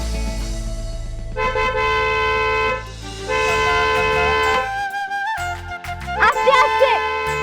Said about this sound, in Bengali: ওই দিকে হর্ন বাজছে।